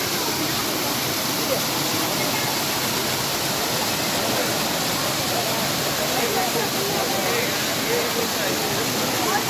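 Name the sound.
gurgling water of a waterfall in Mussoorie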